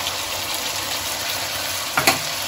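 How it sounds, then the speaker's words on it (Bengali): Tomato paste hits hot oil with frying vegetables, chilli and ginger for a Bengali mixed veg curry, a steady loud sizzle with a brief stir or scrape near the end. "এবার আমি এই টমেটোর পেস্টটা দিয়ে দিচ্ছি।"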